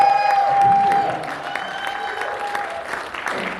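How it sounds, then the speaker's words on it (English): A comedy club audience in Las Vegas claps and cheers at a stand-up show, with loud, dense applause at first that gradually thins and softens across a few seconds. "So give yourselves a round of applause."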